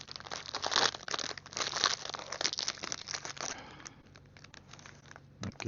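A crispbread packet from an Estonian military ration pack is opened close up, with crinkly plastic rustling and tearing in bursts that settle into softer handling.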